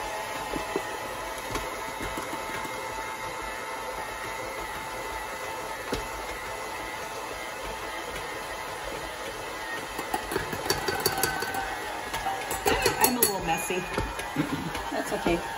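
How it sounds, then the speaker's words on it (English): A stand mixer turned down to a lower speed churns bread dough as more flour goes in, a steady mechanical hum running throughout that grows somewhat louder and busier toward the end. "I'm going to turn down my mixer while I add this in"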